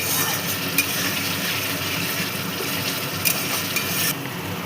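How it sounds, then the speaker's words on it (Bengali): Masala being stirred in a pan after sugar and kasuri methi are added, a steady close scraping and sizzling mix running throughout with no voices. "এবার এটাকে মিশিয়ে নেব ভালো করে"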